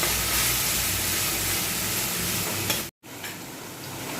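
Tomatoes frying in a pan for sama khichdi, a dense, steady sizzle close up that cuts out for a moment near the end before resuming.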